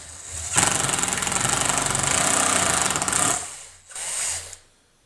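A hammer driver bores a 1/4 inch hole during construction of a Cinepole camera support, a loud steady whirring grind for about three seconds, a short pause, then a second brief burst of drilling.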